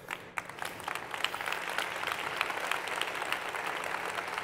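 A conference audience in Jalisco, Mexico, claps steadily and densely, close and sustained, with no voice over it.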